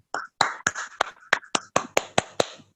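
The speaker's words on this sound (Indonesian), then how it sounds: "Tepuk tangan untuk kelompok religius." About ten sharp, evenly spaced hand claps ring out close and clear, separated by short silences. They sound like a small group applauding a presenting group in a classroom session.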